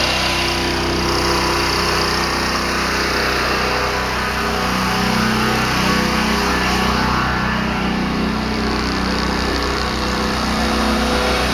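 A 13 hp Prowler pressure washer engine being throttled up slowly, a loud continuous small-engine drone that swells gradually and stays steady, with no talk over it.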